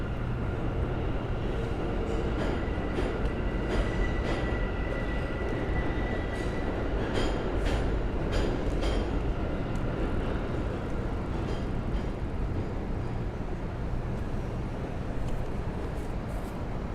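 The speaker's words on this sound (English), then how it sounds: "John Lee, you love hearing the subway screech underneath in New York." A New York subway train rumbles and rattles underneath a Manhattan street on a Sunday evening, a continuous roar of wheels on rails with faint squeals and clanks rising briefly midway, steady and fairly loud throughout.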